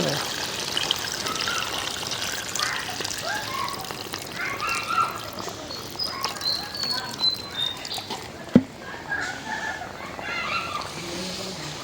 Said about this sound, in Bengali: আমি পানি দিয়ে দেবো।